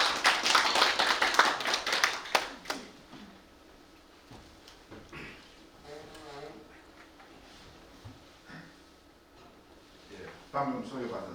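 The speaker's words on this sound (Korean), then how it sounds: "큰 박수 한번 부탁드릴게요" A lecture audience at a Korean history symposium gives a short burst of applause that dies out after a few seconds, followed by quiet room sound, a few taps and faint voices.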